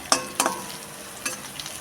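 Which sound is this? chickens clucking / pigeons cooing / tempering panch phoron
tempering panch phoron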